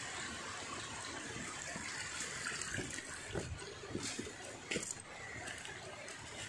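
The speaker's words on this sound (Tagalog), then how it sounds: "Ayan yung malaking ilog dyan." A large river flowing in a remote spot, a steady rushing wash of water with a few louder splashes and knocks near the end.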